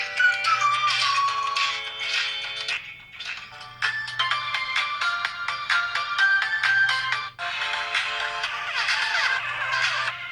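Small built-in speaker of an iHunt Like 3 PRO phone playing audio at maximum volume, a thin, bright melodic tune with a soft repeating low pulse, steady and fairly close.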